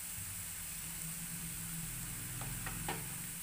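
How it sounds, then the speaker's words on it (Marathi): Masala paste with turmeric and home-made onion masala sautéed in a pan, a soft continuous sizzle with faint stirring scrapes near the end, quiet and without speech. "आता हे चांगलं आपण परतून घेऊयात"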